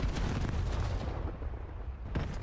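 Grenade blasts in a Call of Duty match: heavy, booming explosions fill the first half with deep rumble, fading into lingering noise before another sharp burst near the end, loud and close with no speech.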